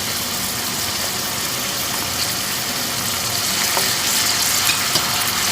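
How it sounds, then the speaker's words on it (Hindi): Garlic ginger paste for keema fries in a pan over medium heat, producing a steady, close sizzle and crackle throughout, with occasional soft stirring scrapes and no speech. "तो अब हम इसको हल्का सा भूनेंगे 2-3 मिनट तक दरमियानी आंच पर।"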